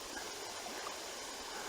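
Clear creek water flows steadily over rocks, a continuous close rushing and babbling with no breaks and no voices.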